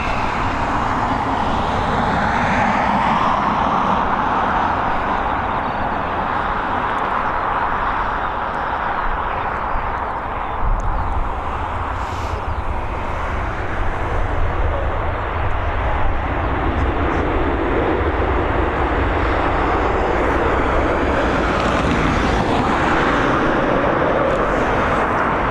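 Turkish airliner at Dublin Airport heard as a loud, sustained jet engine roar that swells and shifts over nearly half a minute, with people talking underneath.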